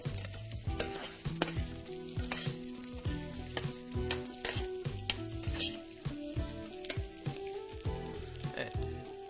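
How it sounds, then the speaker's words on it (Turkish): Rice toasting in a pan for a Caucasian-Cretan style moussaka crackles and sizzles after water goes in, with frequent clattering stirs and scrapes of a utensil against the pan, close and busy throughout. "kavrulan pirince bir suyu ekliyoruz."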